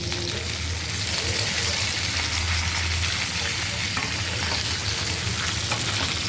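Stuffed capsicum frying in a pan give off a steady, close sizzle with soft stirring scrapes, a low hum beneath and a voice faintly in the background.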